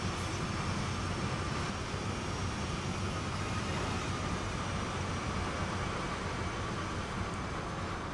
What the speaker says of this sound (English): we do have an AI train going by. It's actually another auto rack too.